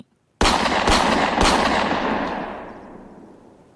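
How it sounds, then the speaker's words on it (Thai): Three loud shots from a Smith & Wesson .38 revolver fire in quick succession, each sharp crack followed by a long echoing reverberation that slowly fades. "เสียงปืนสั้นขนาดจุด38รีวอลเวอร์ของสมิธแอนเวสสัน แผ่สนั่นขึ้นสามนัดติดติดกัน"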